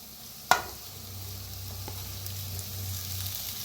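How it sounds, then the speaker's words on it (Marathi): Potatoes roast in a pan with turmeric as a soft, low sizzle runs throughout, opened by a single sharp clack of a spoon against the pan and followed by faint stirring scrapes. "आता बटाटू मिक्स करूया ह्याच्यात।"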